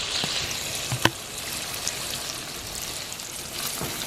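Bacon fries in a pan with a steady, dense sizzle and crackle, close and continuous, with a few sharper pops.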